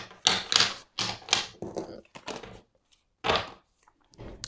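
Tarot cards are shuffled in a few separate bursts of papery riffling and slapping, close and fairly crisp, with short pauses between.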